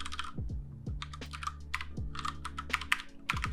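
Rapid typing on a computer keyboard while writing a skills section and introduction in a blank document, with irregular bursts of close, crisp key clicks and a low background hum, no voices.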